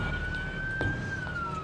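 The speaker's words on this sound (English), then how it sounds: "Dr. Holland and Janine race with her by ambulance to the ER." Wailing emergency siren from an ambulance, one smoothly sliding tone rising and falling slightly over a bit under two seconds, steady and fairly prominent above road rumble.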